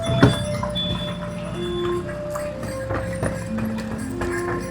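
A single horse pulling a horse cart clip-clops along at a steady walking rhythm, the hoofbeats close and distinct over a low background rumble.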